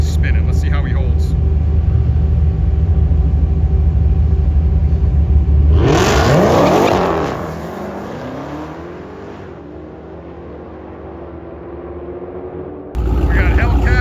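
A 2018 Dodge Demon and a 2023 Demon 170 launching side by side at a drag strip. A steady idling drone gives way to a sudden loud roar of acceleration, then rising engine tones fade into the distance while people talk.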